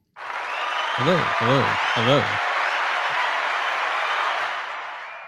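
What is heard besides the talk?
applause from a soundboard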